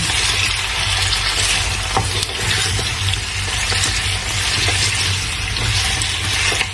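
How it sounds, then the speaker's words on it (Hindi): Potatoes fry in a pan for dhaba-style aloo do pyaza, giving a loud, close, continuous hissing sizzle with occasional soft clicks and no talking. "जो आलू हमने किए थे इनको डाल देंगे और इनको फ्राई कर लेंगे"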